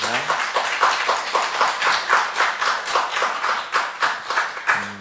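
A congregation claps together during a special 40-day prayer service in a Korean church, a brisk, fairly even rhythm of many hands filling the room, with short bits of background sound at the start and end.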